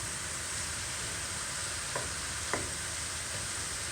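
Rice browning in a pan sizzles with a steady, even hiss, broken by two faint scraping stirs, all close and alone, with no voices.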